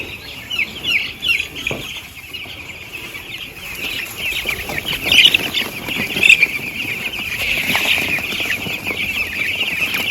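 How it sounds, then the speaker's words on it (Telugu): Many small chicks cheep and peep in a dense, continuous chorus inside a poultry shed, nearby and fairly loud, with occasional rustling movement. "అన్నీ కోడి పిల్లలే, చిన్న చిన్న పిల్లలు."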